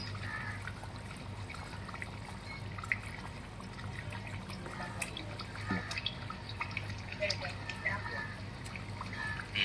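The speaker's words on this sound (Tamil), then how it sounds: "குழம்பு நல்லா கொதிக்கணும். ஒரு 7 நிமிஷம் கொதிக்க விடுங்க." A pomfret fish curry simmers in a covered pot, giving off a quiet, steady bubbling with soft irregular pops and trickles throughout.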